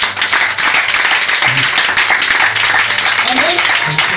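Church congregation clapping loudly to acclaim the word during a sermon, dense continuous hand claps close up, with some voices cheering through it.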